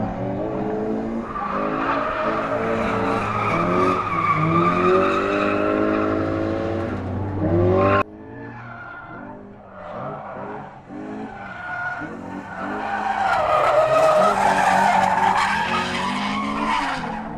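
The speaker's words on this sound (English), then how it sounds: "I'm just going to watch the guys drift for a bit now." Cars drift on a race track during a grip and drift track day, with loud tire screeching and squealing over revving engines, swelling and fading as they slide past.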